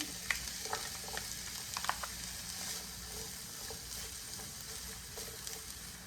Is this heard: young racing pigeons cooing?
no